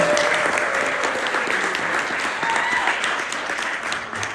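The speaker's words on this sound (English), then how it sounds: "Let's give it one more round of applause with me." Wedding guests keep up a dense, steady round of applause at a reception toast, loud and sustained throughout, easing slightly toward the end with no voice over it.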